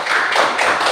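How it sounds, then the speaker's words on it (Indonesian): A class of students claps their hands after a group presentation in a lesson, a brief burst of close, bright clapping from several people, with no one speaking. "tepuk tangan dulu"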